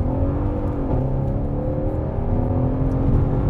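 An Iveco Daily van switched into sport mode accelerates hard while merging into traffic, its engine droning loud and steady from inside the cab with a rising, layered harmonic whine and no talk over it.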